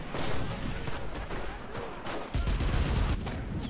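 A machine gun fires in the WWII shooter Enlisted from a church bell tower, heavy continuous bursts with strong low thumps and surrounding battle gunfire, loud and close throughout nearly four seconds.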